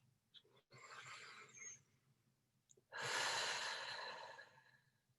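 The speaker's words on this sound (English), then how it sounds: "I breathe out so I can hear it." Two long, audible exhalations, close and fairly loud, the first about a second long and the second stronger and sustained for about two seconds, with quiet breathing between and no talk.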